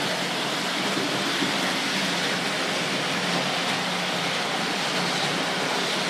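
Steady, dense thunderstorm rain hiss fills the whole stretch with a low rumble underneath, constant and fairly loud with no breaks.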